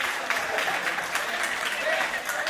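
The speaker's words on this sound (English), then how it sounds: "Fans chant from the crowd." A crowd of fans at a ninja obstacle-course qualifier cheers and applauds in a steady, unbroken roar, with voices mixed through the noise.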